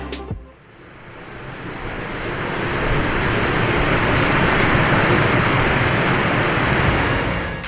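Busay waterfall pours steadily as a broad, dense roar of falling water, rising over the first few seconds and then holding loud and continuous without voices.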